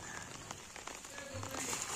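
Heavy early-morning rain pours steadily onto a surface, a dense, constant hiss with scattered louder drops, close and continuous throughout.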